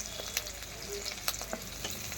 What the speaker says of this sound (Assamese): এইটো পিঁয়াজ জলকীয়া ভাজি আছোঁ মই